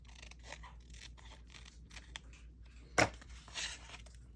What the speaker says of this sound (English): I can cut it with my scissors.